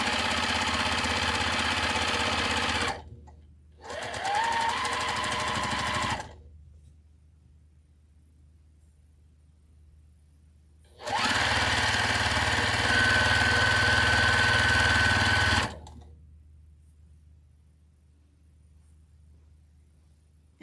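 A sewing machine stitches through many layers of flannel in two loud bursts of steady mechanical running, a short start followed by a longer continuous run, with quiet pauses between and no talking.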